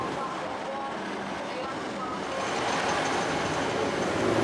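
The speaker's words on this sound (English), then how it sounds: "Right, first train." Train pulling into Headbolt Lane station, a steady broad rumble of wheels and carriage noise that swells slightly toward the end, with a voice faintly present.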